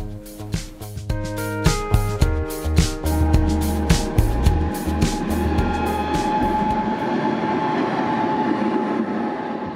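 Gotha tram running uphill on Waltershäuser Straße, with loud rhythmic wheel clatter over rail joints early on that settles into a steady rolling rumble, heard close from onboard.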